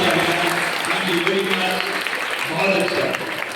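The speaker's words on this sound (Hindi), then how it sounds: "ब्रिजू के लिए एक बार जोरदार तालियां।" Loud audience applause at a quiz competition in honour of a participant, steady dense clapping throughout with voices faintly underneath.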